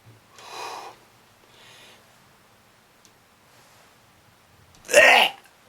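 Soft breathy sniffs separated by quiet pauses, ending in a sharper, louder snort-like sniff.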